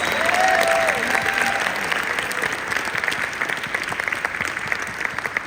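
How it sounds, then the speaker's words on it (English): An audience applauds a couple, Lance and Tracy Smith, with dense, steady clapping that fills the room and stays fairly loud throughout, while a faint voice briefly rises over it near the start. "Can we give Lance and Tracy Smith a big round of applause?"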